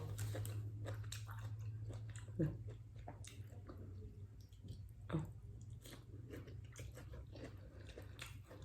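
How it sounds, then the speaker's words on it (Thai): Someone chews a mouthful of Thai bamboo shoot curry with mussels, giving soft, close, wet chewing with a couple of sharper bites over a low steady hum. "ชิมก่อนคำหนึ่ง"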